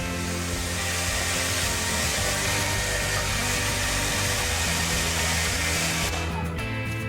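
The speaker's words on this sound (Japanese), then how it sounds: "ちょっとドライヤー使います。 ただね引火は怖いんで、もう軽く遠目でね温めるだけにしておきます。" A hair dryer blows warm air over freshly painted clock parts from a short distance. It gives a steady, loud whooshing roar that runs the whole time and cuts off abruptly near the end.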